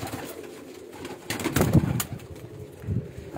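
A pigeon coos on a rooftop loft where pigeons are kept and caught, with soft repeated cooing swelling in the middle and again near the end, close by against faint background noise.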